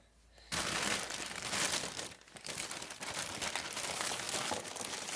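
A mystery box's packaging is torn and crinkled open, loud continuous rustling and crumpling starting after a brief quiet moment, with a short pause midway before more crinkling.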